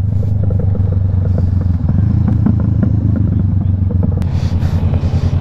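A motorcycle ride gives a loud, steady low engine drone that stays continuous throughout. Light clatter and road noise run over it, and no one speaks.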